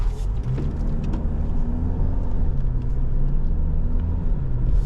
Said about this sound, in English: You give it half throttle, it's screaming like it's really under pressure.